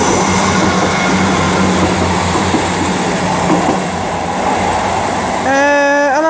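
A Class 158 diesel multiple unit passes through Cheltenham Spa station, giving a steady loud rumble of engine and wheels throughout, with a rising horn-like tonal sweep near the end.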